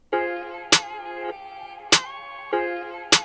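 Sharp snare cracks land only on beats two and four over sustained tonal chords, giving a sparse, steady backbeat pattern.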